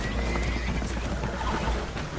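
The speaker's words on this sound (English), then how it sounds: "Horses are spooked" Spooked horses whinny aboard a leaking boat in Red Dead Redemption 2, their neighs rising out of dense, loud rushing water and commotion with a steady low rumble beneath, no clear voices.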